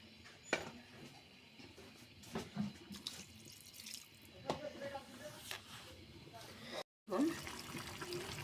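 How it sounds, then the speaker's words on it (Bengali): Water pours from a tap into a pan of rohu fish curry with broccoli as a faint, wavering splash and trickle, with a brief cut near the end and a voice faintly present at times. "আর একটু পানি অ্যাড করে দেবো"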